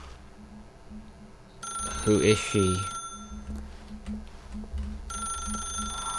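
A telephone rings in The Stanley Parable video game, a steady high electronic trill sounding in two long bursts with a pause between, while someone speaks briefly over it.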